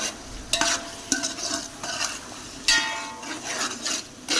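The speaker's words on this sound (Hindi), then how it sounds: "मसाले को हम अच्छे से भून लेंगे।" Spices fry and are stirred in a pot for black chickpea pulao, a close sizzle broken by several scraping strokes of a spoon across the pot.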